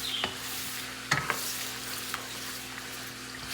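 Green chilli and ginger-garlic paste stirred in a pot for Karachi biryani, with a faint steady sizzle and a few sharp spoon scrapes and clinks near the start and middle; no talking.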